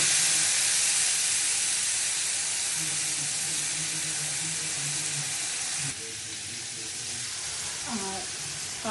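A paste of cardamom and cinnamon sizzles and hisses steadily in hot oil while Bengali chhanar kofta is being made, a close, even frying noise with a faint voice briefly near the end.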